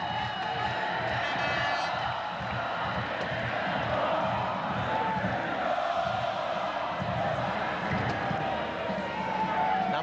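Polish supporters in a football stadium during the Poland versus England Euro 2000 qualifier, a continuous roaring wall of chanting and cheering with rhythmic pulses, heard under a commentator's voice.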